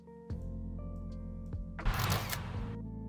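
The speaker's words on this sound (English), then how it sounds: "we'll add a film camera shutter" A film camera shutter sound effect used in reel sound design gives a dense, crisp mechanical burst of about one second, standing out loudly over a steady tonal music bed.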